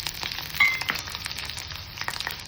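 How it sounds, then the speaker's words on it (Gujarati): Garlic sizzles softly in hot oil with a faint, steady crackle and a few small pops, quiet and continuous with no voices. "ચાલો તેલની અંદર સરસ મજાના લસણ બી નાખી દઈએ."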